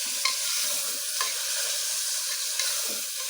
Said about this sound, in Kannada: ಎಲ್ಲ ಕೆಂಪಗಾಗಬೇಕು ಈರುಳ್ಳಿ ಎಲ್ಲ ಸಾಫ್ಟಾಗಿ ಚೆನ್ನಾಗಿ ಕೆಂಪಗಾಗಲಿ